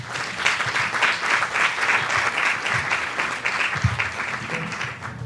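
Steady applause from a conference audience at a lecture on autism intervention models, dense and sustained across the whole stretch at moderate distance, with no voices over it.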